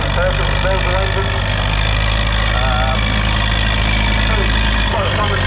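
Vintage tractor powered by a 4270 Perkins diesel engine at a tractor pull practice day, its deep steady rumble running loud and close throughout as someone talks over it.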